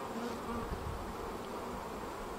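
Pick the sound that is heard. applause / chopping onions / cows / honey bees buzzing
honey bees buzzing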